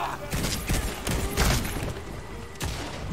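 Rapid bursts of gunfire from a firefight in the video game Redfall crackle in dense, overlapping volleys, loud and close, with brief voices mixed into the noise.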